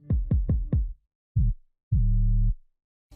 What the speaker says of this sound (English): I am using trap top kick and 808 bass.